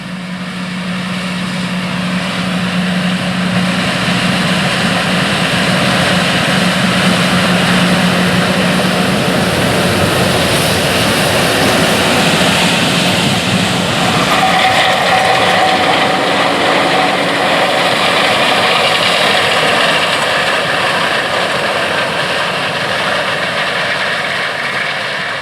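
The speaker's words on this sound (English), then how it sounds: "This Challenger tractor and Unverferth grain cart are constantly on the move during the corn harvest." Challenger MT740 tractor, an MT700-series machine of about 33,000 pounds, pulling an Unverferth grain cart during corn harvest: a steady, loud engine drone with a low hum, continuous and alone for the whole stretch.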